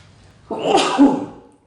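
A single sharp sneeze bursts out close by after a moment of quiet room tone.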